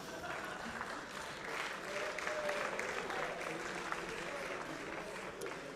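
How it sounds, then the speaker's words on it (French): Audience applause fills the hall at a Swiss Eurobot 2017 robotics competition round, honouring both robot teams; steady, dense clapping holds throughout at moderate level, with faint crowd murmur and voices underneath. "On peut applaudir bien fort les deux équipes."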